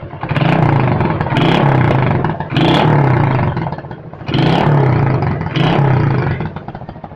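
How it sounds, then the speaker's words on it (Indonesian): A 1976 Honda CB100 motorcycle engine running, revved hard in several loud near bursts that each drop back between them to a rough idle, with a mechanical clatter. "sekarang kita coba dengar suara motornya"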